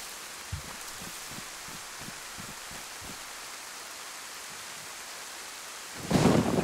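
In the survival game DayZ, steady rain hisses while low thunder rumbles roll in a series of soft pulses, ending in a sudden louder burst of rain or thunder near the end.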